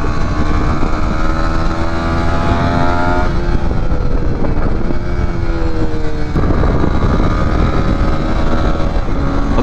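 A 2023 Honda CB250R single-cylinder motorcycle engine, loud and close. The pitch rises through the revs in two long pulls, with a gear change between them and no talk.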